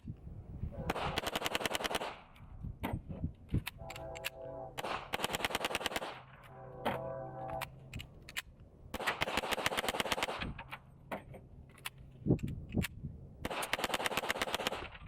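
Hi-Point JCP .40 pistol fires in repeated bursts of rapid shots, loud sharp cracks in several strings separated by short pauses, with no talk over them.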